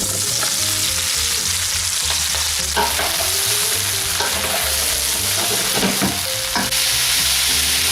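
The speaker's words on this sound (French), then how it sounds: "On va tout de suite commencer par faire suer les aubergines avec les courgettes dans un peu d'huile d'olive" Aubergines and courgettes sweating in olive oil for ratatouille, a loud continuous sizzle close up with low clattering and scraping from stirring throughout, no voices.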